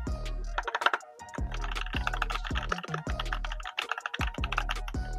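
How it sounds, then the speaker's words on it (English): Custom mechanical keyboard being typed on up close, a steady stream of crisp clacky keystrokes with a few short pauses, loud and without talk. "The keyboard sounds incredible."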